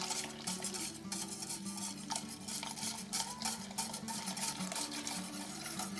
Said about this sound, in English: just keep whisking so it don't end up into a big scrambled egg